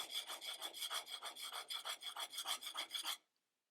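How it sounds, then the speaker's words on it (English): A handplane blade rubbed back and forth on a sharpening stone to form a cambered edge, giving about fourteen even rasping strokes in a steady rhythm, close and clear, before stopping abruptly. "back and forth motion of my arm give me a cambered edge. I'm going to do that in the center of the blade until I find a burr."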